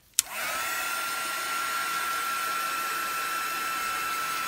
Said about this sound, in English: hit it with the heat gun.